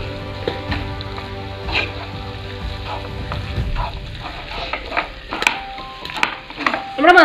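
Clam meat masala seasoned with pepper powder and turmeric sizzles as it is stirred and fried in a pan, with scattered spatula scrapes and clinks over a steady hiss and a faint tonal hum beneath.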